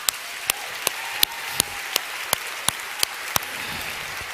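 Church congregation claps in unison to a steady beat, about a dozen sharp, evenly spaced claps over a low background hum.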